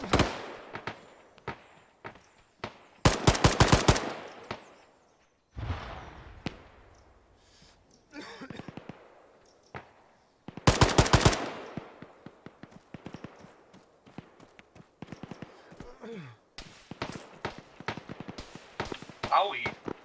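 Gunfire in the video game Arma, heard as bursts of rapid automatic shots and scattered single cracks over about twenty seconds, mixed with players talking over radio.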